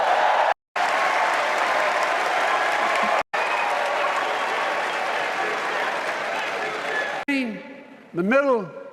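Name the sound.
crowd applause for the First Lady at convention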